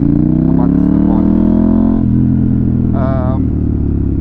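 A KTM Duke 890R motorcycle fitted with an SC Project slip-on exhaust idles with a deep, steady rumble. Someone talks over it throughout.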